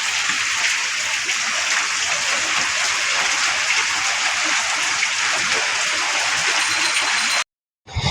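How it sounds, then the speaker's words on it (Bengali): Heavy monsoon rain pouring outdoors as a dense, loud, continuous hiss, steady for about seven seconds before cutting out abruptly, with no voices over it. "ঝমঝম করে বৃষ্টি হচ্ছে"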